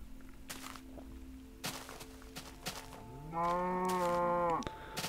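A cow moos once in the Minecraft video game, a loud drawn-out synthesized low from about the middle of the clip, over quiet in-game ambience with a few soft thumps and footsteps.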